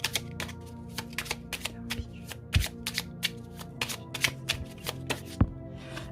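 A tarot deck being shuffled before a card is drawn makes a near, rhythmic run of sharp card taps and flicks, with a few heavier knocks against a tabletop. The sound is moderately quiet and there is no voice.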